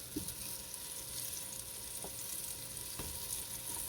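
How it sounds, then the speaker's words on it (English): Steady, continuous sizzling of beef browning in hot oil in a pot, with a few soft clicks from stirring. "Okay, our meat is browning."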